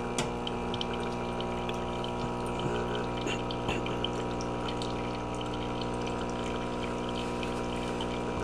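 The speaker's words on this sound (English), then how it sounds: "So the Brera rinsed itself, and then you just dump the rinse water." Gaggia Brera espresso machine running its auto-rinse cycle, a steady pump hum with water trickling and pouring, continuous and close with no talk.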